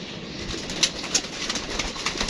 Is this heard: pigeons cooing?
yes